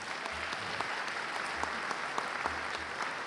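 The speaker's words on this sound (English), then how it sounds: "Would you please give her a round of applause?" An audience claps in steady, sustained applause for a honoured teacher at a 2023 recognition ceremony, many hands at moderate distance filling the whole stretch with no voices over it.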